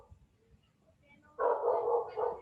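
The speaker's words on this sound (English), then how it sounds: "There are dogs on the beach." Dogs bark on a beach, a sudden loud burst of barking that starts partway through and carries on, after a quiet stretch with faint distant sounds.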